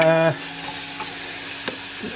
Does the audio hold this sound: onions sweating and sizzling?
yes